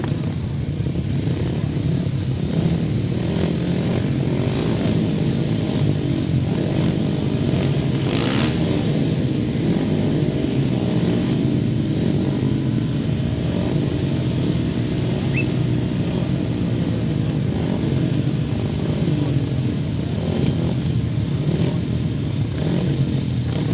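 A pack of 500cc solo motorcycles racing around a grasstrack, their engines droning loudly and continuously for over twenty seconds with steady revving and no pauses, heard from trackside.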